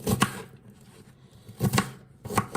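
A knife chopping onions into small pieces on a board for lasagna: three short bursts of close, crisp cuts, the first and second clusters each a quick pair of chops, separated by quiet pauses.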